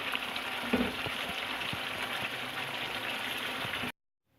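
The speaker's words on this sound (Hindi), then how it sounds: "इसको बस 2 मिनट और भून लें।" Kaleji (goat or lamb liver) fries in a pan with a steady, soft sizzle and bubbling that runs close and continuous for about four seconds, then cuts off.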